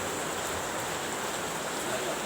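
Heavy rain falling as a steady, dense hiss that holds evenly throughout, fairly quiet and with no distinct drops standing out.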